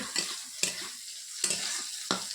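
Bitter gourd fries in a pan with a continuous sizzle, broken by several sharp spatula scrapes and stirs at uneven intervals, close and fairly loud.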